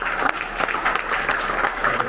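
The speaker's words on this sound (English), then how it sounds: "I think we will not be miser on the claps" Audience at an inaugural session applauds the chief guest with steady, fairly loud clapping from a crowd, a continuous patter of many hands with small swells.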